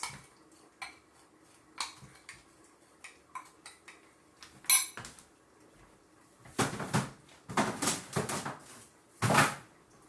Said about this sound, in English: I'm going to mix that up together like this.